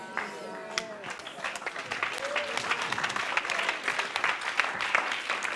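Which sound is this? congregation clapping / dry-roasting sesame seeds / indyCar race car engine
congregation clapping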